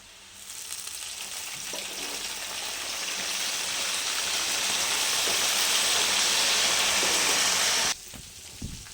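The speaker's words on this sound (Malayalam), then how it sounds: "ഉപ്പുവെള്ളം ഒഴിക്കുമ്പോൾ നല്ലൊരു സൗണ്ട് വരും" Salted water hits hot oil in a pan where jackfruit pieces are frying, bursting into a loud, bright sizzle that builds and holds steady, then drops off sharply near the end.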